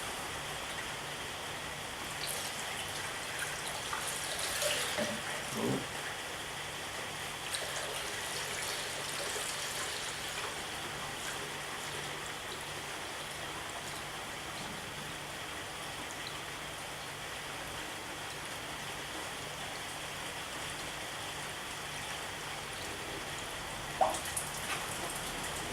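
Liquid poured from a 5 litre bottle into the radiator of a Ford Fiesta EcoBoost during a service, a steady splashing trickle that runs continuously close by, with a few brief knocks and no talking.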